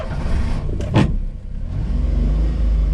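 A Daihatsu kei van's small engine runs at a steady low idle, a close mechanical hum with a brief brighter whir near the start, and no talking.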